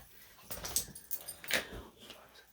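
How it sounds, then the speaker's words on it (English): A puppy gives a few short, excited whimpering barks indoors at close range, with faint background voices. "Like I am with the dog barking."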